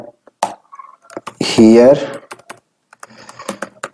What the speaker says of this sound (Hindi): सो ये लिख देते हैं सैयद, ये है हमारी, here is your free download, या लिख देता हूं मैं